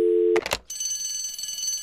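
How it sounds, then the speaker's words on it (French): A telephone ringing in an earpiece during a 2024 NFL mock draft broadcast: a steady tone, then a few short loud bursts, followed by a sustained high electronic ringing tone. "j'entends d'ores et déjà la première sonnerie dans mon oreillette"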